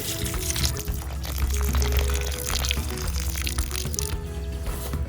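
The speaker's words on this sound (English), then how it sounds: "I have a watering can handy so we can give them a drink right away" Water pours steadily from a watering can onto freshly transplanted blackberry lilies in a garden bed, a continuous close splashing and trickling flow with a slight swell in the middle.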